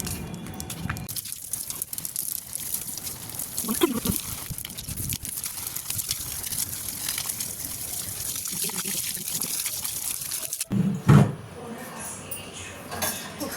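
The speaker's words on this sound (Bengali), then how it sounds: "জলটা দিয়ে দিই গাছে" Water trickles and pours onto a potted dragon fruit plant on a rooftop, a continuous wet splashing with a few clinks, ending in a louder splash, with some speech faintly present.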